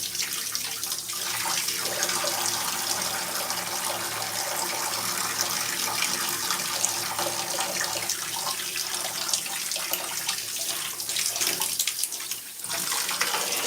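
A tap runs continuously as hair is wetted, a steady broadband hiss of splashing water that stays loud and even throughout, with brief shifts as the stream is moved.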